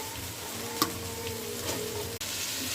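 Onions fry in a pan with ginger and garlic paste and ground spices, a steady close sizzle marked by a couple of quick stirring scrapes and one brief clack.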